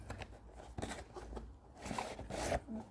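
Rustling and crinkling of a product package being opened, the box for a Degen CY-1 radio, with scraping, tearing-like bursts close to the mic and no talk.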